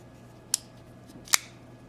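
A CRKT Ruger LCK flipper pocket knife snaps open twice, two sharp, close metallic clicks about a second apart over a quiet background hum.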